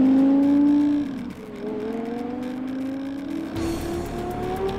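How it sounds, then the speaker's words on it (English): A Lexus LFA supercar with a V10 engine accelerates hard on a cold day, its rising, high-pitched engine note climbing through several gear changes, loud and close with no talk. "Lexus asked us if we wanted to drive the LFA supercar."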